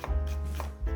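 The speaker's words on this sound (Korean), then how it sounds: "이렇게 그냥 쫑쫑 썰어 넣으시면 될 것 같아요." A knife chops the white part of a thick green onion on a cutting board, three crisp close taps in a steady rhythm, with no talking over them.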